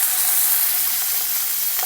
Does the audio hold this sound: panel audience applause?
no